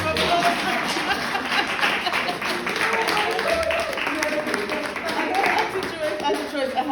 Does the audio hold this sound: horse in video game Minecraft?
no